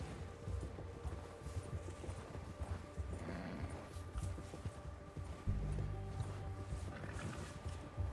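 Horse hooves clip-clopping at a steady walking pace in Red Dead Redemption 2, close and continuous, with a brief snort and a heavier thump midway.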